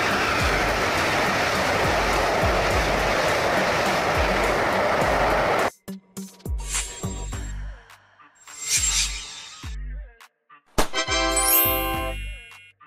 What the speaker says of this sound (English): High-speed train. These trains are designed to run at very high speeds, usually over 250 kilometers per hour.